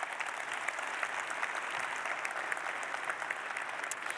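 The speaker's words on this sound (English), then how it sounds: "Let's give them a round of applause." A keynote audience at Kafka Summit London 2024 claps for three startup finalists, a steady, even crowd of many hands applauding throughout, heard from some distance in a large hall.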